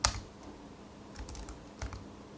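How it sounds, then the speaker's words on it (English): Computer keyboard being typed on during a server RAID controller flashing session, a few quiet scattered keystrokes close by in a calm room. "I'm going to type in CLS just to see if I clear the screen here."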